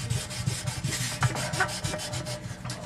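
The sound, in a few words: sanding acrylic with 1000 grit sandpaper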